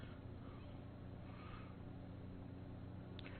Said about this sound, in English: And you can hear the engine wind out there.